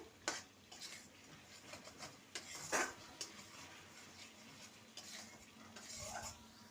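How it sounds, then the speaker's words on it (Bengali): A utensil stirs vegetarian masala with a little sugar in a pan, scraping and clinking against the metal in irregular strokes over a soft sizzle of oil. "এবার সাথে ব্যালেন্সের জন্য দিয়ে দেবো সামান্য চিনি যেহেতু নিরামিষ রান্না ভালো করে আবারও নেড়ে নেব"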